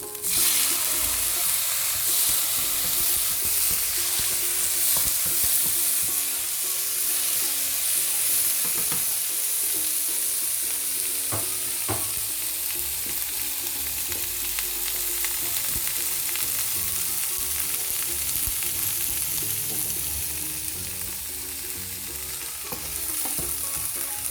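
Tomatoes frying in a pan for paneer butter masala, giving a loud, continuous hissing sizzle with occasional stirring scrapes, easing slightly toward the end.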